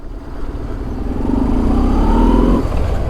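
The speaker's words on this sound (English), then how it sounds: "Let's try accelerating over here." A motorcycle, just back on the road after a mid-ride clutch cable break and repair, accelerates nearby with a steady, rising engine drone that holds strong for about two and a half seconds, then eases slightly.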